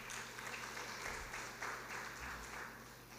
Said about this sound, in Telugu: బిడ్డల కోసం ఒకసారి చప్పట్లు కొట్టండి